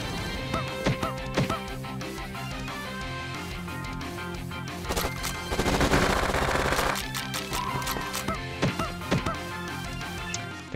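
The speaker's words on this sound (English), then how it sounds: "the machine gun fire is actually quite good" Rapid machine gun fire in the Nintendo Switch game Panty Party, dense bursts of shots over busy game music and effects, loudest around the middle.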